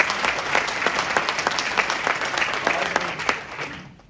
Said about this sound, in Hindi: आप लोग के लिए एक बार तालियां बजाती है